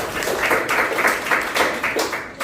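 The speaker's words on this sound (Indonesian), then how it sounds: "Tepuk tangan dong buat kelompok ini" Applause from students in a sociology classroom for a group, a loose run of clapping in uneven bursts at moderate volume.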